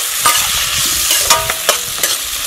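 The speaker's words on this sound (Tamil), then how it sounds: "இங்கே பச்சை மிளகா கூட வந்து நாலு தக்காளி கட் பண்ணி வச்சிருக்கிறேன் அதையும் சேர்த்துக்கலாம் இது கொஞ்ச நேரம் எண்ணெயில் வதங்கட்டும்" Green chillies and chopped tomatoes sautéing in hot oil, a loud close crackling sizzle with a few sharp spatter pops and stirring scrapes, no voices.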